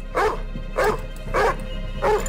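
A dog barks four times at an even pace, close and fairly loud, with faint background noise between the barks.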